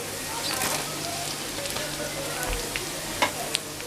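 Carrots and beans frying in a pan for egg chowmein, with a close crackling sizzle and a few sharper clicks of a utensil against the pan.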